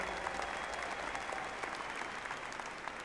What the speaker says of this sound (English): Let's give Coach Littleton a round of applause